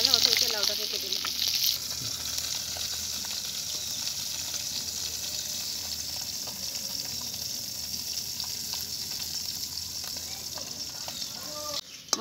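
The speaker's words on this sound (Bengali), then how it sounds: "আমি মাছটা ভাজা হতে হতে লাউটাকে কেটে নেব" Fish frying in oil for a bottle gourd and fish recipe, a steady, close hiss and sizzle running throughout with light crackling, ending with a brief clatter.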